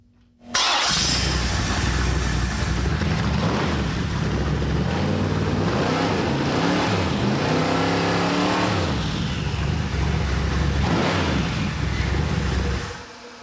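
A twin-turbo small-block Chevy V8 with a Banks twin turbo kit fires up and roars, revving loudly in repeated swells with a deep, throaty rumble, then cuts off abruptly.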